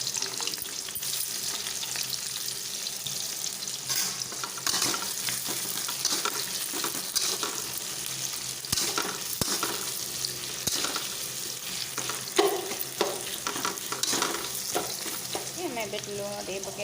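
Onions frying in hot oil for a chicken curry, a steady close sizzle with stirring scrapes and a few sharper clatters throughout, no voices.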